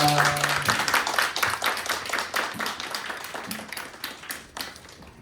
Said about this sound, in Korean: 우리 오재석 장로님 앞으로 오실 때 큰 박수로 환영하겠습니다